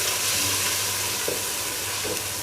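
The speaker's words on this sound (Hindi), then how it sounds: "इसको हल्का सा फ्राई कर लेंगे।" Garlic ginger paste fries in a pot, giving a steady, close, broadband sizzle and hiss that holds evenly throughout, with a couple of faint stirring knocks and no talking.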